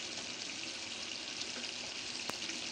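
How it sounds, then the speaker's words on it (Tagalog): A pan of Ilocos-style liver with potatoes, carrots and pepper simmers on the stove, giving a steady, close hiss of bubbling and sizzling with one brief tap partway through. "Kumukulo."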